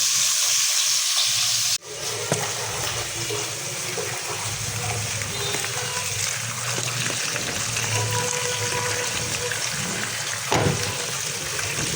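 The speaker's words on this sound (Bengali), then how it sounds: "হালকা ভাজা দিয়ে নিব।" Tilapia fish lightly frying in oil: a brief loud hiss, then after a sharp cut a sustained, busy sizzle and crackle with occasional small knocks, steady and close, no one speaking.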